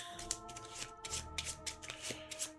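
Playing cards for a Marvel Champions card game being riffle-shuffled up close, a quick series of crisp flutters and taps with no talk.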